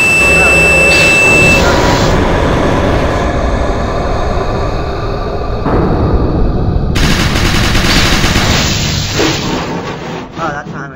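In the horror video game SCP Containment Breach, a loud, harsh alarm blares continuously for several seconds over heavy rumbling game noise.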